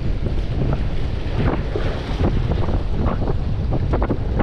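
Strong shore wind roars and buffets the microphone while someone fishes from the beach on New Year's Day, a constant, heavy rumble with surf washing underneath.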